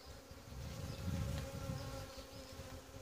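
A honeybee swarm drones inside a Langstroth hive, a close, dense, continuous buzz with a steady hum that swells slightly midway, no talking heard.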